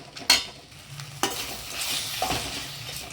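Mint chutney ingredients sautéing in a pan, giving a steady low sizzle and frying hiss with a few sharp clinks and scrapes of a stirring spoon, close by and with no talking.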